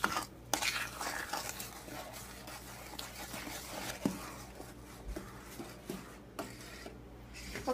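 Fudge mixture being stirred in a pan after milk is added, quiet close scraping and swishing with small utensil taps against the pot at an uneven rhythm, no talk.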